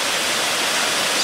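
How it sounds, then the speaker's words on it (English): Water crashing off Hilton Falls, a tall waterfall with a large swimming pool at its base in North Georgia, roars as a steady, loud, broadband rush with no break or voices. "But look at the water coming off those falls."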